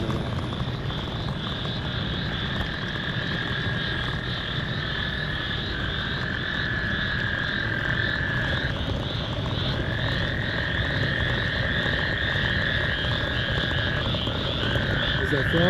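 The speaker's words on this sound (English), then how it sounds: "Is that frogs or cicadas?" Insects or frogs call steadily at night, a continuous high trilling chorus with a brief dip midway, heard over low ambient rumble for the whole stretch.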